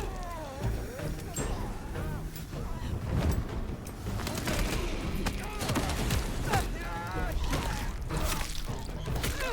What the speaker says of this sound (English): Oh, that's no, that's guns.